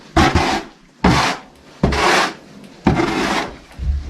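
Sawdust bedding is shoveled and spread in a horse stall, four loud, close, scraping swishes of wood shavings, each about half a second to a second long with short pauses between.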